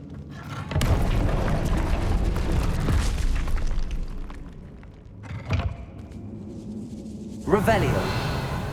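A Confringo fire spell bursts in Hogwarts Legacy, a heavy boom followed by sustained rumbling noise and a couple of sharper blasts, loud and close amid ongoing game sounds.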